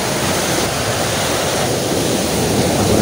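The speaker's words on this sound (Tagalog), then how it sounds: "So, lakas ng alon, wala namang hangin." Strong sea waves surge and wash in a dense, continuous roar of surf on a windless shore, loud and close, with no voices.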